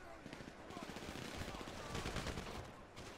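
Gunfire in a GTA V Online shootout, rapid bursts and scattered shots crackling through a busy mix at moderate distance, with voices talking over it.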